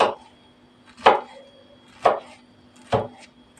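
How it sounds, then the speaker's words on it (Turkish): Knife strokes chop peeled peaches into cubes on a cutting board, four crisp separate knocks about one second apart, close and clear with no talking. "Önce böyle ince ince doğrayalım. Sonra küp küp arkadaşlar."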